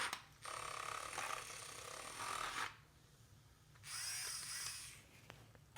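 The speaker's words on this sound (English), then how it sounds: "I'm using my little mixer here" A small handheld mixer whirs as it stirs a packet of stevia into a cup of coffee, in two close buzzing bursts: a longer one, then a shorter one after a pause, with no talking.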